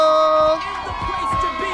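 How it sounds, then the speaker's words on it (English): A live audience at a dating show taping cheers and shouts, with a sustained musical tone up front and whoops and crowd noise rising over talk. "Start clapping right now. Get really loud for Queen Rachel."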